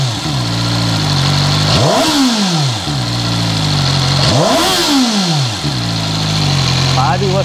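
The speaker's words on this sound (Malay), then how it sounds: "Ini pula bunyi dari bahagian exhaust ataupun muffler." CFMOTO 500SR sportbike with dual exhaust idling loudly and steadily, blipped to two sharp revs that climb and fall back to idle.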